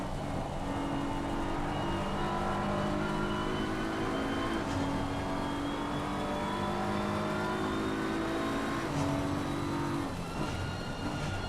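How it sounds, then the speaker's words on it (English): Team WRT BMW GT3 race car in Assetto Corsa Competizione at Barcelona, its engine droning steadily at high revs, with gear changes and rising pitch sweeps, close and constant for the whole stretch. "Now we are taking a ride with Daniel, with the Team WRT BMW."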